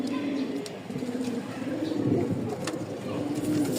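Rajshahi Giribaz pigeons coo softly and continuously up close while someone speaks over them throughout.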